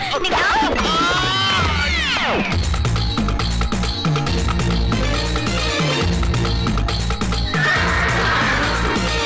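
A horse gives a loud, drawn-out whinny close up at the start, then a dense, busy mix of clattering sound carries on without pause.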